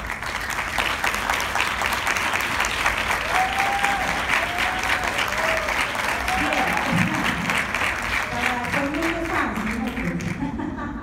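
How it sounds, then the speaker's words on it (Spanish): A conference audience claps in a long, steady round of applause, with faint voices murmuring underneath as it continues. "para ellos un aplauso porque de verdad se lo merecen."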